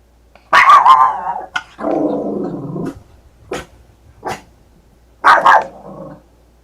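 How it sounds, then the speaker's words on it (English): A dog barks in loud, sharp bursts close by, several barks in quick succession with pauses between, heard alone in an indoor room during an overnight live stream. "Sorry, my dog's barking."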